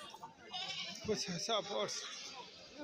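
Goats bleating at a goat market in Kerala, a couple of short wavering bleats close by, heard under someone talking steadily.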